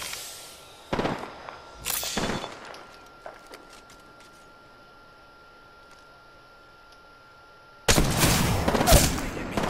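Gunfire in the shooter game Apex Legends: a few sharp, close bursts of shots early on, then a quieter stretch with faint distant pops, ending in a loud sustained volley.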